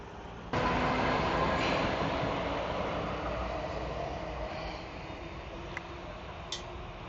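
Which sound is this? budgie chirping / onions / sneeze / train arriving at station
train arriving at station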